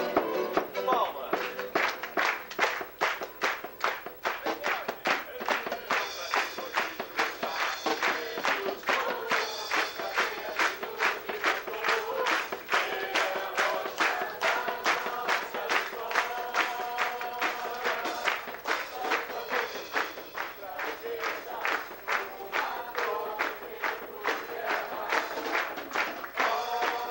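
A church congregation claps in rhythm with the drums during morning worship praise, a long run of sharp, regular hand claps laid over music from start to finish.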